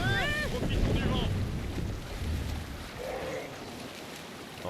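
A sailboat runs before the wind in the video game Assassin's Creed Valhalla, with steady rushing wind and water noise. A voice speaks briefly early on, and faint game sounds come later.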